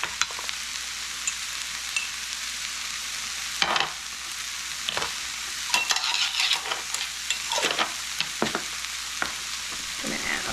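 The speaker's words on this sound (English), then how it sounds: "I'm going to add a little more garlic oil." Garlic oil sizzles steadily in a hot pan with precooked food being reheated, a constant crackling hiss broken by several scraping stirs of a utensil, close and fairly loud with no talking.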